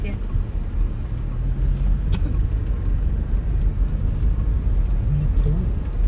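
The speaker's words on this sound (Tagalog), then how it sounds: "Nandun yung sasakyan" A jeep engine runs nearby in a rural province, a steady low rumble that holds throughout with slight rises, while people talk over it.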